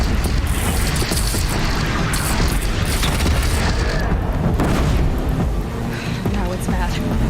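Cannon fire booms from Horizon Zero Dawn gameplay, heavy low thuds recurring throughout over a dense wash of battle noise and wind, with voices talking over it.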